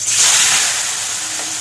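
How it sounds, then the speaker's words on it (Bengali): Potatoes hitting hot oil produce a loud, steady burst of hissing sizzle, close and alone for a short moment. "এবার এই তেলে আমি কটা আলু ভেজে নেব।"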